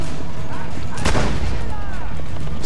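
An explosion in the video game Assassin's Creed Brotherhood, a single loud blast roughly midway through, set against steady game ambience and background clatter.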